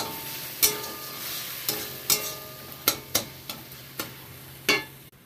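Sugar chutney with bay leaf, dry chilli and mustard seed being stirred in a pan without water, a soft sizzle under repeated sharp clinks of a spoon against the pan at irregular intervals.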